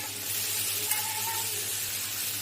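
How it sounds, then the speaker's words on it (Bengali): Chopped tomatoes sizzle in a hot pan with ginger, garlic, green chilli paste and turmeric for a fish curry, a steady close frying hiss with a faint stir. "কুচিয়ে রাখা টমেটোগুলো আমি এতে দিয়ে দেবো আস্তে আস্তে"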